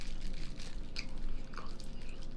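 Someone chews a thick gummy up close, producing faint, wet squishing and soft biting sounds in an irregular rhythm, with no talking.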